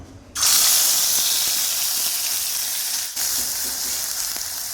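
Ground masala paste dropped into hot oil in a kadhai for a prawn curry, bursting into a loud, close, continuous sizzle that dips briefly once and carries on with no talking.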